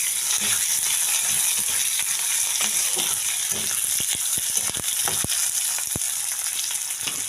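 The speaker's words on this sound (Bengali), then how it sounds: "পেঁয়াজটা লাল লাল করে ভেজে নেব।" Onions fry in hot oil in a kadai with bay leaf and five-spice seeds, a loud, steady crackling sizzle close up, punctuated by sharp spatula knocks and scrapes toward the end, no talking.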